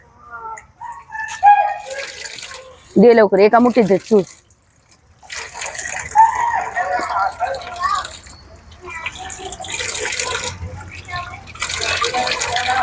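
Cold drinking water running from a tap in Kurukshetra, splashing steadily in the latter part while people talk nearby.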